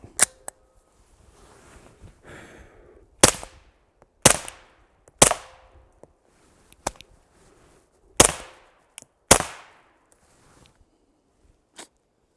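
A suppressed 9mm pistol fires HSM 147 grain subsonic rounds outdoors. Sharp, close cracks come one at a time at uneven intervals, with faint clicks and handling noise between them and no talking.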